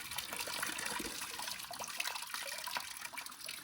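Water trickles and drains faintly from a hose on a cattle drinking trough, a soft steady splashing stream with occasional drips.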